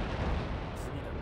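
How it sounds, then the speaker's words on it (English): Dense, continuous gunfire from the Armored Trooper VOTOMS mecha video game, a loud overlapping barrage of booming shots that fills the short stretch without a break. "the gunfire is definitely a bit overpowering"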